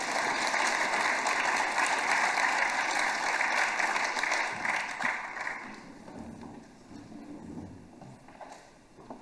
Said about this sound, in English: Feel free to give them a round of applause as they take their seats.